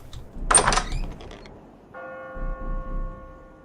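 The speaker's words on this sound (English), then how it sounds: "Friggin' bell's still going off." Bell ringing in Realms of the Haunting: a bright metallic strike, then a sustained ringing tone that hangs steady over a low rumble.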